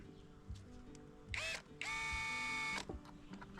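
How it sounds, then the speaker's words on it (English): A power driver sends the last couple of screws into wood for a bike-tyre workshop wall art piece: a short whirring burst, then a longer sustained whine, amid quiet knocks and shuffling. "Last couple of screws going in."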